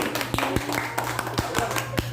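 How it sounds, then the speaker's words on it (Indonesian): A classroom of students claps for a discussion group, a few sharp separate claps spaced irregularly over a couple of seconds, with room noise between them. "tepuk tangan untuk kelompok satu."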